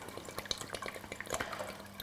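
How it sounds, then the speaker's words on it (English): Vinegar poured into a pot of water while preparing a brine for canning peppers, a light trickling splash with scattered drips, close and moderately quiet, no voices. "I have 6 deciliters of vinegar, and I'm just gonna add that into the water."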